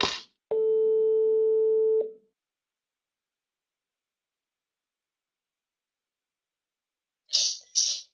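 A single steady telephone tone sounds for about a second and a half during a call, then cuts to silence, followed by two short breathy noise bursts near the end.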